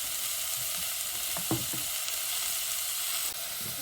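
Vegetables sizzle steadily in a hot pot, with a constant frying hiss and a few soft clinks of stirring.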